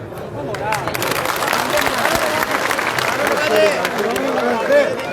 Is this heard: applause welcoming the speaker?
yes